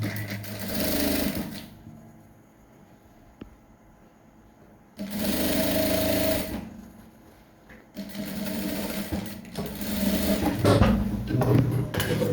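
A sewing machine stitching the crotch seam of English-style trousers, running loud and close in bursts of steady whirring separated by quieter pauses, with no talking.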